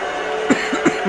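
A person coughs a few times in quick, throaty bursts, close and fairly loud, with a short raspy cough and a gap before the next, during a wrestling video game broadcast.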